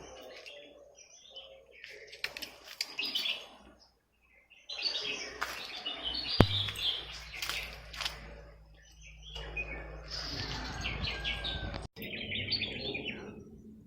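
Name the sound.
sparrows chirping noisily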